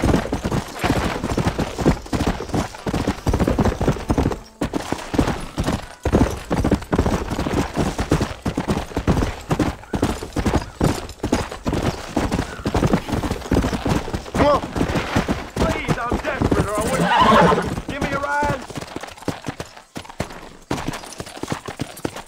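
A horse's hooves clip-clop steadily in the Red Dead Redemption western game, a continuous rhythmic clatter mixed with bursts of gunfire.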